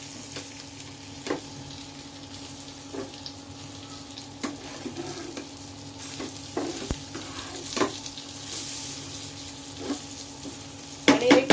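Surmai (kingfish) slices shallow frying in a little oil in a pan, a steady close sizzle with occasional clinks and scrapes of a spatula, no voices.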